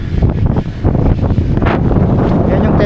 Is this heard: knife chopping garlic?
no